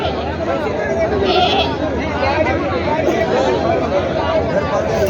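Goats at a Saturday goat market in Gangakhed, including a Wande-breed doe with two kids, bleat amid a steady hubbub of crowd chatter and nearby voices.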